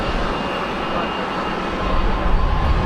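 A business jet's engines roar steadily on the ground at Luton airport, a dense broadband rush that stays loud throughout and swells slightly near the end.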